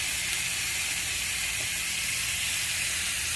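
Ribeye steaks seared in a pan, smoked with Jack Daniel's, give off a steady, even hiss and sizzle that holds without a break at moderate loudness.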